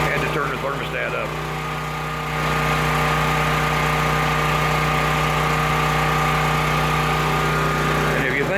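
A propane-powered engine runs indoors in a shop, with a steady close hum and low drone throughout and a slight rise in level partway through.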